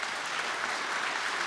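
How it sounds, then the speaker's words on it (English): A short burst of steady, fairly quiet clapping from the audience at a wearable tech panel during a 2014 conference, thanking the round-table participants. "Can I have a round of applause for all these people here?"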